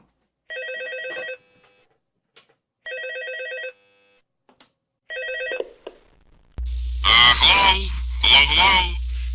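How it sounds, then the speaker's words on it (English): An old telephone rings in the Five Nights at Freddy's video game: three bursts of electronic bell trills with pauses between them, followed by a voice speaking over a low hum. "How is it ringing? It's not connected to anything."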